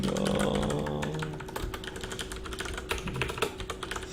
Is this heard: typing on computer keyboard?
yes